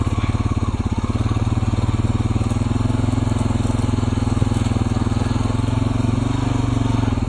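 Honda four-wheeler engines idle close by in a steady, loud, rapid putter while warming up, holding an even rhythm throughout.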